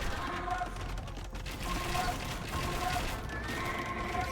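Bombard cannon fire in an Age of Empires-style real-time strategy battle, with a dense, continuous crackle of gunfire and battle clatter that sits at steady, fairly loud volume throughout.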